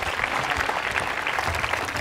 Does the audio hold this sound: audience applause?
yes